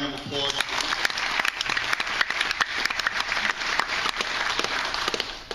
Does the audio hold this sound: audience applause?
yes